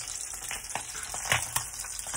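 Fish fries in a pan in a home kitchen in Bacolod, with a steady close sizzle, crackling spatter and faint stirring scrapes, no voices.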